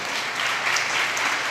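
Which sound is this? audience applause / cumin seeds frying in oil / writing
audience applause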